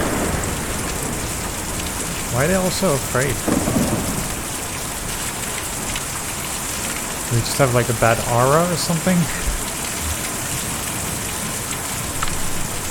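Steady rain in the video game Kentucky Route Zero hisses throughout while two people speak briefly over it, their voices standing out against the constant downpour.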